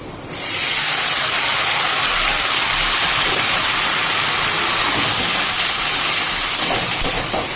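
Mola fish and vegetables such as eggplant, tomato, stems and onion hit hot oil for a Bengali chorchori, setting off a loud, steady, hissing sizzle that starts abruptly and holds evenly throughout with no talk.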